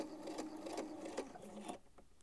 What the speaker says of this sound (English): So I'm just stitching right close to the fold.